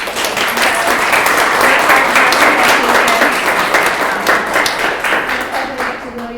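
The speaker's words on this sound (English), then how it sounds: "So if you guys want to give a round of applause to your families." Lively applause from a room at a board of education meeting, full and sustained clapping that tapers slightly near the end, with voices mixed in.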